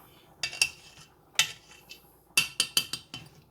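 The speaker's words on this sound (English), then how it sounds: "I'm gonna go ahead and take this off the eye" A pot lifted off a stovetop burner while macaroni cooks, giving a string of sharp metallic clanks and clinks, a few spaced taps followed by a quick cluster of knocks, close and fairly quiet.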